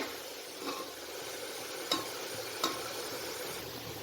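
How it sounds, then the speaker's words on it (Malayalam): Ghee rice ingredients stirred in a pressure cooker over a medium-high flame: a faint, steady sizzle with a few soft scrapes and light clinks of the spoon against the pot. "മീഡിയം ടു ഹൈ ഫ്ലെയിമിൽ വെച്ച് നല്ലതുപോലെ ഒന്ന് ഇളക്കി കൊടുക്കാം"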